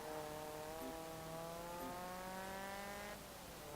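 A 1994 Honda Prelude Si engine in Forza Horizon 4 revs up steadily with a rising whine toward just over 6,000 RPM, holding high before easing off near the end, clean and synthetic-sounding.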